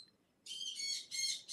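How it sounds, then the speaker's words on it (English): Birds chirp outdoors in short, bright bursts of rapid high tweeting, fairly near and moderately loud after a brief quiet start. "Probably hear all the birds and dogs."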